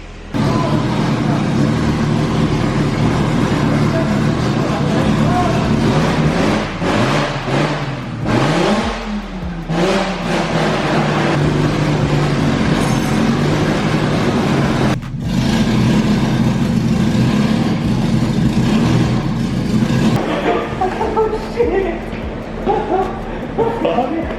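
Loud BMW E46 M3 race car engine running in a garage, a constant rough drone with revs rising and falling, while people talk over it throughout.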